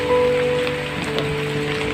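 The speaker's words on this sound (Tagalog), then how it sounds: "malakas pong ulan, may bagyo" Heavy typhoon rain pours down steadily on a surface, a dense close hiss of drops with no voices.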